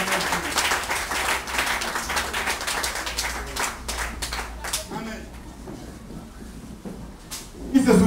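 A church congregation claps and cheers loudly during a worship service, a dense, steady burst of applause that thins out toward the end, with voices mixed in.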